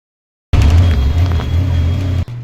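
Busy Sunday road traffic in Pune, heard from on the move: a loud, close engine and road roar that starts abruptly, holds steady, and is cut short near the end.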